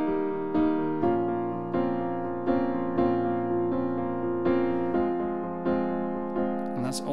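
A piano piece played without the octaves: steady repeating broken-chord figures with chord changes about every second, clear and close with no talking.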